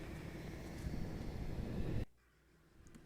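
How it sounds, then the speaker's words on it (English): Wind blows steadily in The Last Door video game as a broad, fairly loud rushing noise. It cuts off abruptly after about two seconds and leaves a faint, quiet background with no talking. "That sounds like wind."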